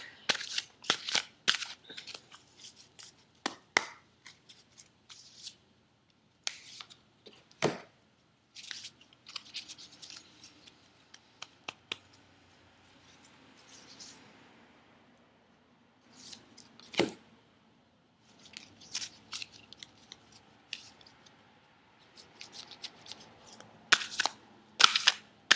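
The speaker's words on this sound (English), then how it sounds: "I am going to pull 3 cards from my psychic tarot deck." A psychic tarot deck being handled, with cards pulled one by one: scattered sharp, close snaps and soft slides spread across quiet stretches.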